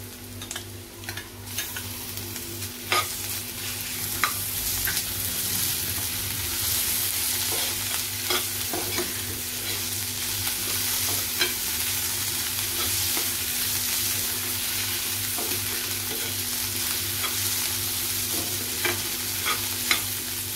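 Ginger garlic paste frying with softened, translucent onion in a pan, a continuous loud sizzle with scattered spatula scrapes and taps over a steady background hum.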